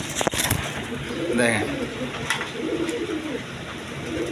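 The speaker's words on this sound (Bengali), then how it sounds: "বন্ধুগণ এখানে এক পেয়ার কালারিং গররা কবুতর আছে।" A pair of colored pigeons coos softly in a loft, with low throaty burbles and some faint chirps. Nearby voices are heard over the birds.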